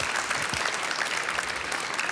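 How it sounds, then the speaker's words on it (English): A crowd at an industry trade-fair stage applauds loudly and continuously, a thick, even roar of many hands clapping throughout. "Big applause"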